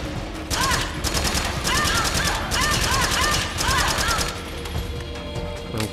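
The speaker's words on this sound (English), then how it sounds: "just shooting the wall there, Meryl." Repeated bursts of automatic gunfire hitting a wall in a video game, loud and rhythmic over background game sounds, with a voice speaking over the shooting.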